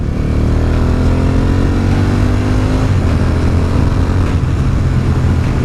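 Suzuki TL1000R motorcycle accelerating hard, a loud close engine roar with rising pitch as it climbs through the revs, heavy wind noise throughout, no talking.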